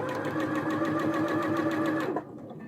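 A sewing machine stitches a seam on a pork pie hat, running at a loud, steady rapid rhythm up close for about two seconds before stopping abruptly, with no voices.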